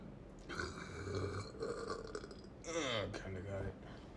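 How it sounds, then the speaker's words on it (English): A person lets out a drawn-out, croaking burp up close, rising and falling in pitch over a few seconds, with a second rougher gulp of air toward the end. "Oh man, I got a burp in my belly."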